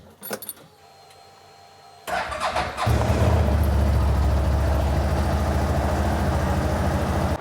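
A 2020 CFMoto Z950 Sport motorcycle starts up after a jingle of keys and faint clicks, then its engine settles into a loud, steady idle that runs on close by with no talking.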